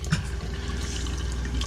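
Water runs steadily from a faucet in a Jayco Melbourne RV as the plumbing lines are flushed after winter storage, a continuous close rushing flow with no talk.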